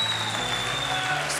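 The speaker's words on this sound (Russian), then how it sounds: "Let's give God loud applause." A church congregation applauding, a dense continuous wash of clapping from a crowd with a faint tone running beneath it, sustained for the whole moment.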